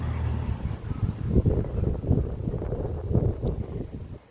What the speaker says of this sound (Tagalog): Grabe ang hangin guys. Ito ang hangin.